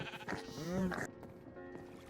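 Close, brief bleating from a goat in a modded Minecraft farm, a wavering cry of about half a second standing out over light game ambience.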